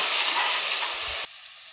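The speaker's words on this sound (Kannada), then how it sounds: "ಇದು ಸಹ ರಾಸ್ ಮೇಲೆ ಹೋಗೋ ತನಕ ನಾವು ಫ್ರೈ ಮಾಡ್ಕೊಬೇಕು." Ginger garlic paste frying in a pan for tomato rice bath: a steady, fairly loud sizzling hiss that drops suddenly to a quieter sizzle near the end, no talking.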